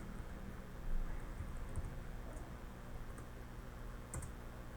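Quiet typing on a computer keyboard while entering a spreadsheet formula, soft irregular key clicks with a few sharper taps, no voices.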